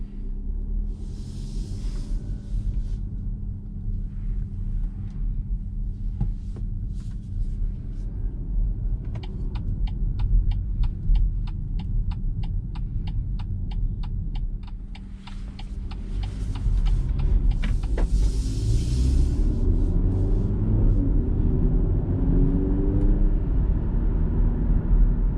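A 2021 BMW X1 with the premium package driving on a test drive, a steady low cabin rumble of engine and road noise with a rapid ticking run in the middle, like a turn signal, and no talk.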